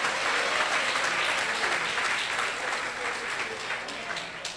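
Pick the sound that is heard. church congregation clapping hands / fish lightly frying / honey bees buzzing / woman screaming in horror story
church congregation clapping hands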